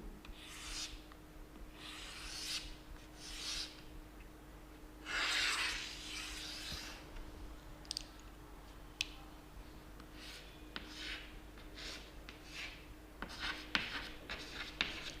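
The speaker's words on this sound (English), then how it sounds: "I will draw the structure of microsporophyll" Marker or chalk scratches and rubs on a board in short strokes and squeaky lines while a diagram is drawn, faint and close in a quiet room.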